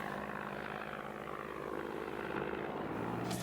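Soviet Pe-2 bomber engine drone, a steady throbbing propeller roar that holds constant throughout, moderately loud and with no talk over it.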